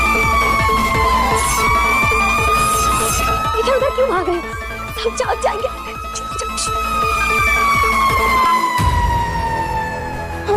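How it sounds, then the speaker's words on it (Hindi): A loud, close fire engine siren wails in long rising and falling sweeps over a rapid rhythmic pulsing horn, with a voice speaking briefly partway through. "Fire brigade!"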